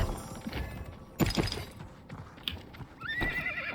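Horse hooves clip-clop and a horse neighs in the battle royale video game Realm Royale, with a loud whinny burst near the middle and a rising trill at the end.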